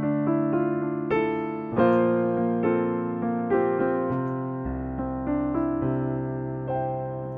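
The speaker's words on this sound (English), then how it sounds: "So the one we have here is the Steinway D in New York classical preset" Steinway D piano modeled in Pianoteq 8 with the New York classical preset, playing rich sustained chords and a moving melody, close and full, with no voices.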